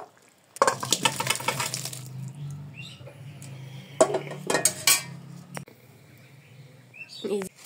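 A cooking pot of Bengali tangra fish curry with new potatoes is taken off the stove, with metallic clanks and scraping clatter of the pot and utensils in bursts, and quieter gaps between them.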